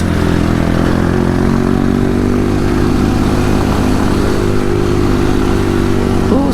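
A motorcycle engine runs steadily and loud at close range with a constant droning hum while riding a rough, damaged mountain trail under overcast skies in Kayapa, Nueva Vizcaya.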